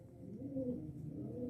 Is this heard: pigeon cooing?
yes